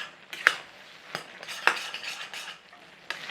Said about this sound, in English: we're going to cook and stir till some of these are broken down completely in the pan